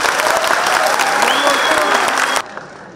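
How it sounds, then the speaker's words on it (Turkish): Students give a strong, dense burst of applause for their chairman at a briefing before a school trip to Çanakkale. The clapping stays loud and steady for over two seconds, then cuts off abruptly. "Ben sevgili gençlerden başkanımız için güçlü bir alkış istiyorum."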